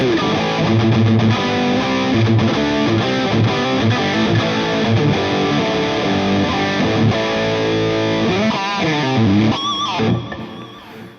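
A Super Telecaster electric guitar plays a loud, heavily distorted 80s shred line with fast, continuous riffing and bends, then ends abruptly.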